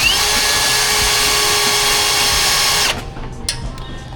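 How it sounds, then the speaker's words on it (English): A power drill bores holes in a Suzuki Jimny to mount an ARB Summit bull bar, giving a loud, close, continuous whine for about three seconds before stopping abruptly, followed by faint clicks. "Drilling some holes so we can set the bull bar in place."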